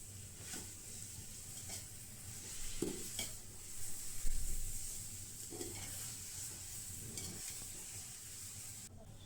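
A bottle gourd sweet with palkova melting and cooking in a pan, giving a soft continuous sizzle broken by occasional scrapes and knocks of a stirring spoon against the pan; close but fairly quiet, with no voices.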